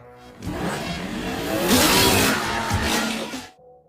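A car engine in a Transporter film scene revs hard and climbs in pitch as the car pulls away, loud and close. The roar lasts a few seconds and then cuts off abruptly.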